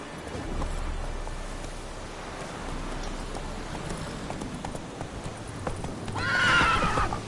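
A horse galloping in The Witcher game, steady rapid hoofbeats under rainy ambience, rising to a loud neigh near the end.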